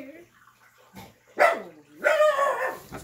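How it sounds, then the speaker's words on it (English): A dog barks nearby in two or three sharp bursts, the last one longer and louder, after a few softer sounds at the start. "That's my weird dog."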